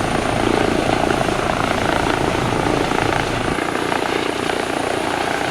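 Simulated EC135 helicopter in X-Plane 11 with its turbine engine and rotor near idle during an approach, a loud continuous whine and thrum with a steady rotor beat, heard alone and unbroken throughout.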